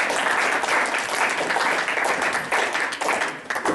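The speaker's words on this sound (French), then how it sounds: "On peut l'applaudir quand même pour cette allocution." Audience at a conference on racism in Montreal applauding after a speech, a steady, dense round of clapping that stays fairly loud for the whole few seconds.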